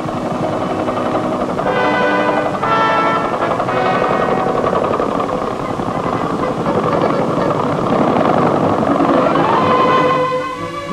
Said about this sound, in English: Precious time is saved when sections of a bridge are flown in by helicopter and lowered into position.